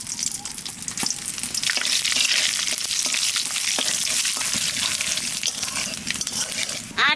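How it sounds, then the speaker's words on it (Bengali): Panch phoron and dried red chillies sizzle in hot oil for khichuri, a steady loud crackling hiss with scattered pops throughout, no voices. "তেলের মধ্যে দিয়ে দেবো 5 ফোড়ন আর শুকনো লঙ্কা"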